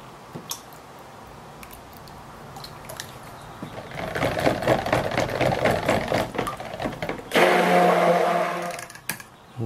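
A stick blender whirs through soap batter in uneven bursts, a gritty mechanical buzz that builds up halfway through, then turns louder and steadier near the end before cutting off.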